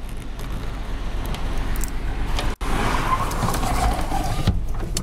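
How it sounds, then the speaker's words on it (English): Truck driving through city traffic, a steady broadband rumble of engine and road noise with a brief dropout midway. "We'll do a little bit of city driving, and then hopefully with traffic allows."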